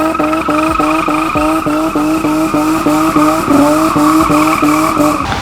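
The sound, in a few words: BMW E30 DTM car driving, tires skidding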